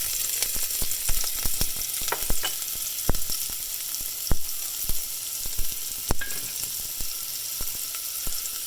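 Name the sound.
sizzling in preheated Dutch oven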